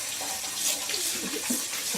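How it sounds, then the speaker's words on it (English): Cold tap water runs steadily over freshly boiled homemade noodles in a strainer, a continuous close splashing hiss with no talking. "we're just going to run some cold water through it"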